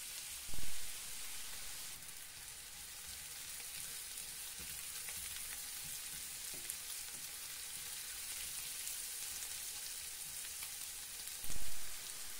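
Zucchini sautéing in a pan with salt added, a steady close sizzle and fry crackle running throughout with no talking.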